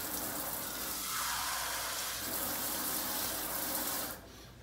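Warm water is poured into a bowl of flour and sugar for Portuguese sweet bread, making a soft, steady trickling pour for about four seconds before it stops.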